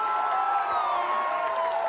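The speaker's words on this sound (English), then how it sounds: "Crowd fired up" Crowd cheering and buzzing at a high school baseball game after a swing-and-miss strikeout, a steady, dense roar of voices throughout, fairly loud and continuous with no clear breaks.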